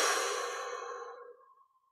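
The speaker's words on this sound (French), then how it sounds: "On relâche le ventre, expire." A slow, steady exhale during a guided breathing meditation, a soft airy breath that starts fairly full and tapers gradually into silence over about two seconds, close and quiet with no talking.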